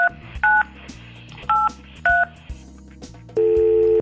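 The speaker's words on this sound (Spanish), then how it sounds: "Cuando tú presionas los números del teclado," Telephone keypad tones as number keys are pressed on an older phone, a string of short two-tone DTMF beeps in an uneven rhythm, ending on one longer tone, loud and close.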